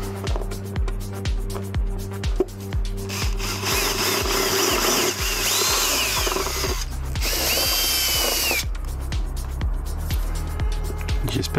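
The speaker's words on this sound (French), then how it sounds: "Chercher la visseuse, une mèche et en avant." A cordless screwdriver with a drill bit boring a hole while installing an air-conditioning cover: repeated short whirring bursts, then a sustained loud grinding run through the material, followed again by brief trigger pulses.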